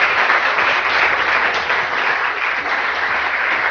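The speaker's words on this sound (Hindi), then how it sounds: "उन सबके लिए एक बार बहुत सारी तालियां" Studio audience of a Pakistani morning show breaks into steady, dense applause, a loud continuous wash of many hands clapping at once with no voices over it, holding level for the whole stretch.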